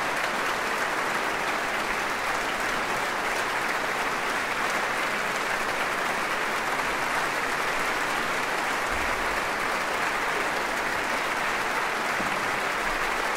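A large concert hall audience gives sustained applause after a Christmas carol concert by the Choir of St. John's College, Cambridge, a steady, even roar of many hands that continues without a break at a moderate distance.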